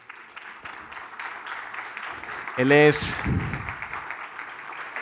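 An audience applauds at a medical conference talk on AI and diagnostic imaging. Steady clapping fills the whole stretch, and a voice speaks briefly over it midway.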